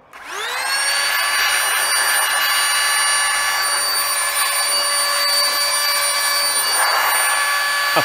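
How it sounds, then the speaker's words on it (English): Compressed or blown air cleaning dust out of a PC graphics card indoors: a loud, steady high-pitched whine and hiss that spins up within the first second and holds continuously with a faint pitch sweep. "we're gonna blow the air out of this graphics card"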